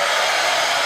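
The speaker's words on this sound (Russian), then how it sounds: "Пылесос." Vacuum cleaner running in an office, a steady, loud broadband whoosh with no pauses, close by and alone.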